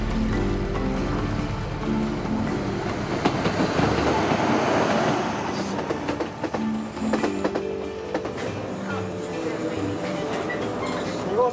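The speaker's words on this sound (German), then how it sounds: "Der Zug legt nur kurze Stopps ein." Seven Stars luxury train in Japan running on rails, a steady loud rumble of wheels and carriage noise with rhythmic clatter throughout, with voices talking over it.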